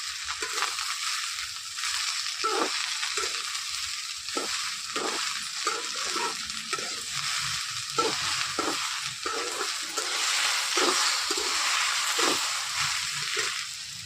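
Sliced okra sizzles steadily in hot oil with popped mustard seeds, a continuous bright frying hiss broken by repeated stirring scrapes of a spoon in the pan, close and alone.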